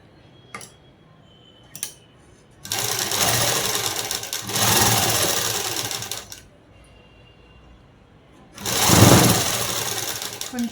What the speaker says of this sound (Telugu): ఇప్పుడు ఇలా మడిచి అనేది కుట్టుకోవాలండి